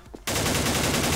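After a brief quiet start, a loud automatic gun in a video game opens up in one unbroken rapid burst that runs to the end.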